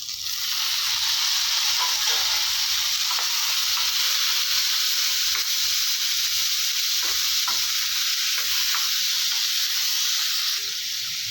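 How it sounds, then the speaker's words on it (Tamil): Green chillies and tomatoes sauté in a pan for a vegetable chutney, a loud, steady sizzle under repeated scrapes and taps of a spatula stirring them. "இப்போ பாருங்கள் மிளகாவை நல்லா வதங்கிடுச்சு இப்போ இதோட தக்காளி சேர்த்துக்கலாம்"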